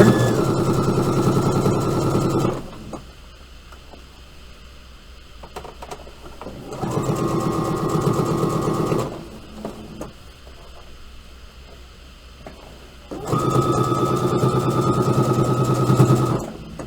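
A sewing machine stitches bias binding around the edges of a jacket, running in three loud, close bursts of rapid mechanical chatter separated by quiet pauses, with no talking.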